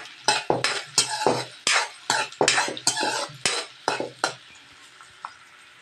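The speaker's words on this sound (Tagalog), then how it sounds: "Igigisa po muna natin ito bago po natin ibalot po sa lumpia wrapper. Mag-isa na po tayo ng bawang at sibuyas." Garlic and onion sautéing in a pan for tinapa lumpia filling, with a utensil stirring and scraping in repeated bursts and a low sizzle underneath that fades toward the end.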